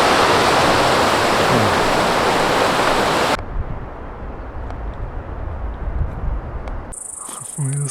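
A rushing river along the Pacific Crest Trail near Yosemite pours out as a loud, dense wash for the first few seconds, then cuts to a quieter outdoor background with faint insect-like ticks, and a voice speaks briefly at the end.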